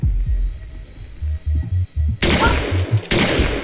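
Gunshots in the video game Fear and Hunger 2: Termina, a string of low thudding beats followed by two sharp, loud bursts of gunfire close together.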